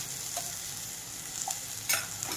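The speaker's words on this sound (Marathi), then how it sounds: "आणि छान आपल्याला वाटण परतून घ्यायचंय, कारण आपण कच्चं वाटण वापरलंय इकडे।" Raw ground masala paste sautéing with onions in a pan for a fresh Bombay duck curry, a steady close sizzle with a few soft spoon scrapes, no talk.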